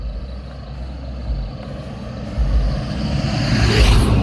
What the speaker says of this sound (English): hold on, there's a truck coming.